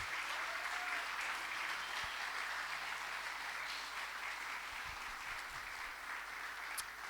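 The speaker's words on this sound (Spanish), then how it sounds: "Dale fuerte ese aplauso al Señor." A church congregation applauds during a sermon, a steady wash of many hands clapping at a moderate distance, sustained evenly throughout with no talk on top.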